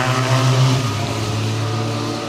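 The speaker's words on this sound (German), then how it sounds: "da kommt ein Motorrad." A motorcycle passes on a road beside a forest, its engine drone steady and fairly loud before fading slightly as it moves on.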